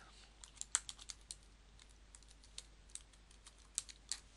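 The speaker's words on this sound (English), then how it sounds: "you can also type in your email address." Quick bursts of typing on a computer keyboard, faint and close, with irregular clusters of key clicks separated by short pauses in a quiet room.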